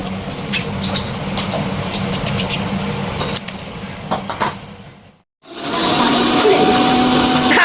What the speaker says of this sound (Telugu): మిక్సీ కలుపుకుంటున్నాను